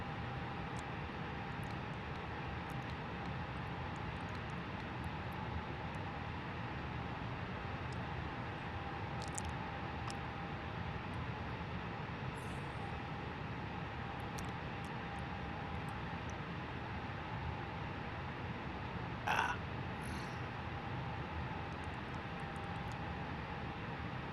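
Airliner engines spooling during pushback in Microsoft Flight Simulator, the Flybywire A32NX, a steady faint turbine hum and hiss filling the cabin with a few small clicks, unbroken throughout and with no talking.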